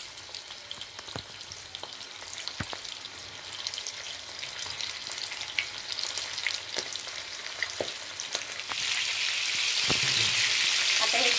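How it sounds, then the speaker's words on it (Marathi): Marinated prawns for prawns koliwada sizzle in hot oil, making a steady close crackle and hiss with small pops and stirring clicks that grows louder and denser near the end. "त्यात कोळंबी आपण गरम तेलामध्ये सोडूया।"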